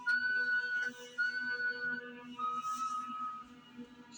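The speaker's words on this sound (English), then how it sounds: "3 long whistles, then silence." Three long, thin whistled tones sound one after another, faint and steady, with brief gaps between them in an otherwise quiet space.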